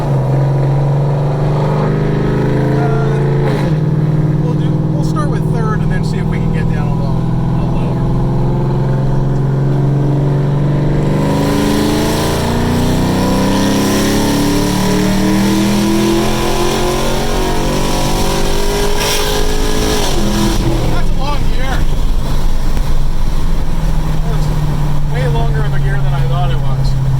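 A cammed car engine on a dyno revs at wide open throttle and climbs through shift points with loud, rising and falling harmonic sweeps, then settles back to a lumpy idle, and a voice talks over parts of it.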